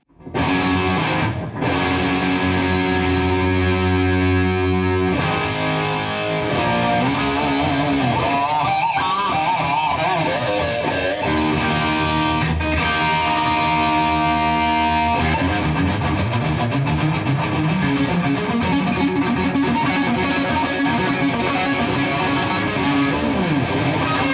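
An electric guitar plays through an amp's crunch channel, moderately distorted, strummed chords and riffs ringing out steadily and loud, with no voices.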